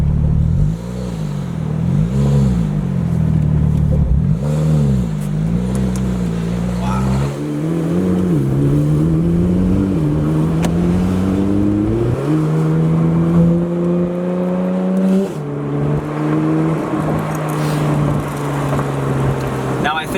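A Porsche 991 GT3 revs loudly through its exhaust, with repeated climbing and falling engine pitch before it settles into several long rising sweeps. The sound is close and dominant, and people talk faintly underneath.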